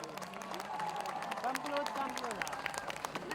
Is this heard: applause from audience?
yes